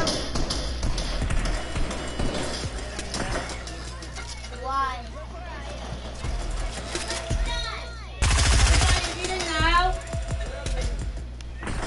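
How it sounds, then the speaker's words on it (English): Video game gunfire cracks sharply in repeated shots and short rapid bursts, loud and close, mixed with other game sounds while people talk over it. "Oh, we're getting sniped."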